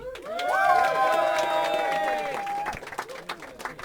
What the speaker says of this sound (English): Let's give a huge round of applause for the mighty motherfucker known as